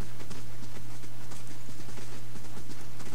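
Game footsteps from Pillars of Eternity, a quick, regular clopping patter of steps close up, carried over a constant low hum with no voices.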